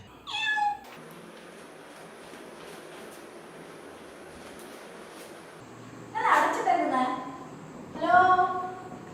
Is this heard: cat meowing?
yes